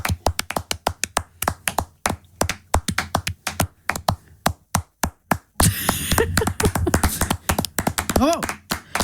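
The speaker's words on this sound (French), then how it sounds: "Encore 15 secondes d'applaudissements." Studio applause on a radio show: brisk, rhythmic clapping, close and fairly loud, then the last few seconds turn into a busier wash of clapping and cheering with people talking over it.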